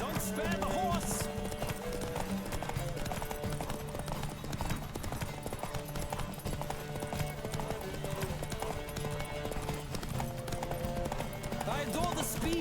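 Horse hooves gallop at speed in The Witcher 3: Wild Hunt, a steady clip-clop running continuously under a dense orchestral game score, with no one talking.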